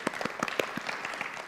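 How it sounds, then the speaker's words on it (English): A small audience at a business conclave breaks into brief applause, a short burst of scattered hand claps heard fairly faintly and without talk. "a good round of applause for the spirit"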